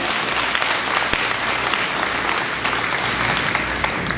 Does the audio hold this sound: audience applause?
yes